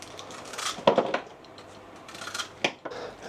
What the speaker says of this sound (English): I'll just cut the ends off.